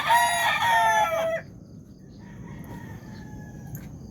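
A rooster crows loudly and close by for about a second, then farm hens, one of them close to laying, cluck and chirp faintly in a quieter yard.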